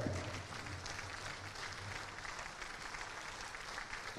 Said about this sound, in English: Ladies and gentlemen, please stand and applaud.